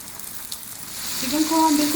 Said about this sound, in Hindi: चिकन को हम बिल्कुल मीडियम फ्लेम पे फ्राई करेंगे।